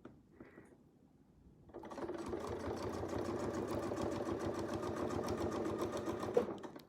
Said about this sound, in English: I could just sew right off the edge